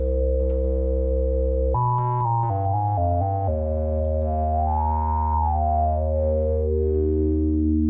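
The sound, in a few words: synthesizer oscillator modulated by random voltage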